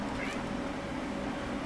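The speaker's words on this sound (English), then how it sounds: "My cat Fonzie is here and wants attention" A pet cat meows for attention, a short plaintive cry over a dense background hum, with a person talking nearby.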